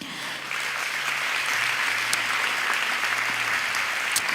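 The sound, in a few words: audience applause for pageant committee co-chairs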